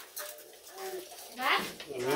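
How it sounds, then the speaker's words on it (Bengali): A dove coos softly in a sunny village yard, a few low rounded calls rising and falling beneath nearby talking voices. "ঘুঘু পাখি"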